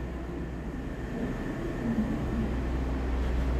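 A Taiwan Railway diesel train at Ruifang station, a low steady rumble and engine drone holding close and even throughout with no voices.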